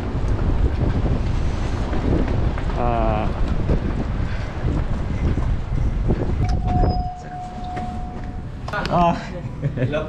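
Strong wind buffets a boat at sea, a loud steady roar rushing over the microphone with waves beneath, while people talk over it throughout.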